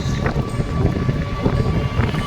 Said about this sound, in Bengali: বাতাস উঁচু বাতাস